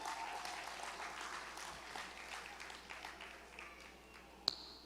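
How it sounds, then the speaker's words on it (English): Applause for a graduating class choir at a secondary school graduation ceremony in Montserrat, a steady, fairly quiet crowd clapping that holds for several seconds and thins slightly, with one sharp tap near the end. "Let us give them another round of applause"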